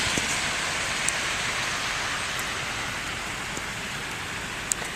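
Hail keeps falling outdoors on a cold, snowy day, a steady dense hiss of pellets striking surfaces with a few sharper isolated ticks, even and moderately loud throughout, no voices.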